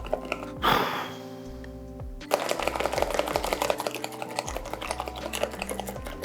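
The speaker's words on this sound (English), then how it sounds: "we're just going to whisk this up so then it becomes a batter" Yorkshire pudding batter is whisked briskly in a bowl, a rapid, close clicking and tapping rhythm that starts after a brief rustle and continues steadily.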